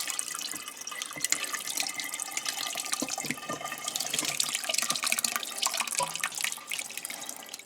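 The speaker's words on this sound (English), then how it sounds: "And we're just pouring it through cheesecloth." Rendered pork lard pours through a cheesecloth strainer, giving a continuous close-up trickling and splashing stream with irregular drips and no talking.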